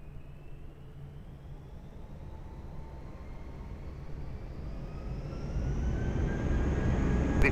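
A fixed-wing airliner takes off from runway 20 at Lisbon Airport, with a steady broadband jet roar building gradually and growing louder toward the end as the aircraft accelerates, heard from a distance with no talk.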